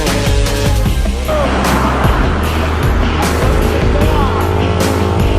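Intercity bus of the Transport Express line pulling out of the Solok terminal bound for Jakarta, a loud low diesel engine rumble with shifting tones and passing traffic noise, continuous throughout.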